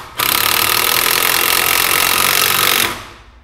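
A cordless 18V, 150 Nm impact driver fitted with a socket drives a large screw in one loud, continuous hammering burst of about three seconds, close up, then stops abruptly.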